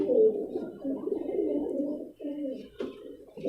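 Soft, low Rampuri pigeon cooing, repeated throaty coos in a steady run, close by and fairly clear.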